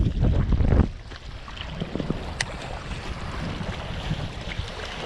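Wind gusting hard across a microphone on a boat out bass fishing, a loud rushing buffet that eases into steady blustery noise over water.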